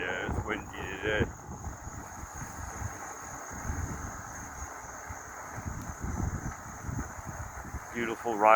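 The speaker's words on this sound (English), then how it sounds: "Oh yeah, it's windy today." Wind buffets the microphone during an outdoor ride on a breezy day, a steady low rumble running the whole time, with a voice talking briefly at the start and end.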